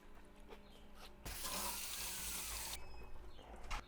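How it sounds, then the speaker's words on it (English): Tap water gushes into a sink to rinse mushrooms for a turkey, salami and avocado sandwich, a steady broadband rush lasting about a second and a half before cutting off, with quiet kitchen handling sounds around it. "Rinse your mushrooms,"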